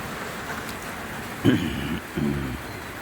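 Rain falling outdoors over a camping swag stretcher and gazebo makes a faint, steady hiss, broken by two brief louder thumps near the end.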